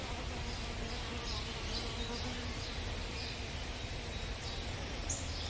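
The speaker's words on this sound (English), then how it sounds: "There's our wild bees." A swarm of wild honey bees buzzing in old comb, a dense continuous hum with individual bees droning past, steady and close.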